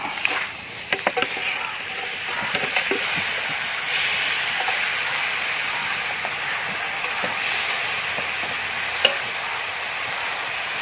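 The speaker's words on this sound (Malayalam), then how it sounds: "അപ്പോൾ ഇനി നമുക്കിതിലേക്ക് നമ്മുടെ താറാവിൻ്റെ പീസ് ഇട്ട് കൊടുക്കാം" Duck pieces frying in a hot masala for Kuttanad-style duck mappas, a steady broad sizzle with occasional stirring scrapes and clicks that runs throughout at moderate loudness, and no voice.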